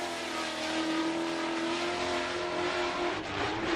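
Drift car engines roar steadily at high revs on a track, a loud sustained mechanical drone with no break, as several cars power around the banking.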